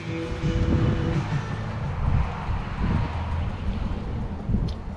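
A rebuilt engine runs steadily nearby with a low, rough rumble and some wind buffeting, holding a fairly constant level throughout.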